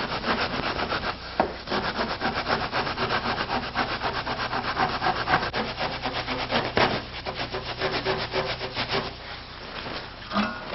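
A flat trowel scrapes and cuts away built-up tile mortar along a straight edge on a ceramic tile countertop, giving a close, steady rhythmic rasping stroke after stroke with no talking.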